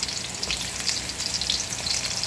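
Onions and garlic, added after ginger, frying in a pan, a continuous fine crackling sizzle at moderate level with no voices.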